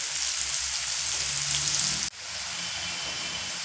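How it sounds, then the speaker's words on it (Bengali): Onions sizzling in hot oil in a home kitchen pan, a steady close hiss of frying that cuts off abruptly partway through, then resumes slightly softer. "পেঁয়াজ আমি ভেজে নিয়েছি, একটু মাঝারি করেই ভেজেছি"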